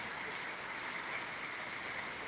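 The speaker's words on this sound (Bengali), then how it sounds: "এখন পরিমাণে একটু কম হলো কিন্তু প্রচণ্ড বৃষ্টি" Heavy rain pours down steadily, a dense, even hiss that stays loud and unbroken from start to finish with no voices.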